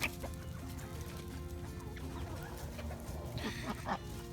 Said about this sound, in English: Come on, we want to hear your crow